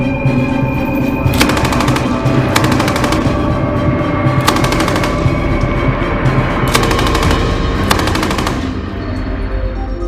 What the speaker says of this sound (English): Shooting tests for the Marker robotic platform took place at a training ground of the Central Military District in Chelyabinsk, Russia